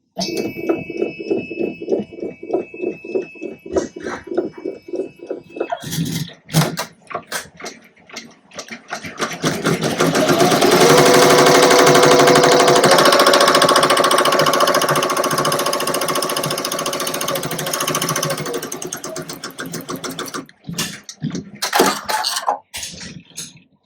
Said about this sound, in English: the next thing we're going to do is get ready to stitch the placement stitch for the bow